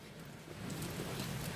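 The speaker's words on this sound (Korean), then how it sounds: "이 빗소리를 뚫고" Autumn rain falls steadily over an outdoor memorial ceremony at Seoul National Cemetery, a soft continuous hiss of drops on surfaces that grows slightly louder partway through, with no voices.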